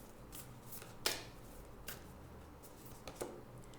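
Oracle cards for a tarot reading are shuffled by hand, giving soft, quiet riffles with a few sharper slaps of cards at irregular intervals.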